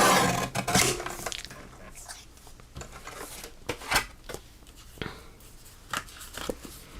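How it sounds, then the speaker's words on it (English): Scissors snip through blue ribbon at a crafting table, a series of scattered crisp cuts and rustles close by over a low room background, with no one speaking. "I'm going to cut this to 4 1/8."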